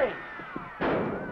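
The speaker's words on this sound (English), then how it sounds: "There goes a starter's gun, and they're off." A single sharp starter's gun shot cracks near the end of a brief moment at a race track, a short loud report with a lingering tail.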